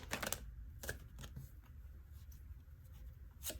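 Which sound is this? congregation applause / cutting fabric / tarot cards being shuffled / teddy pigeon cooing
tarot cards being shuffled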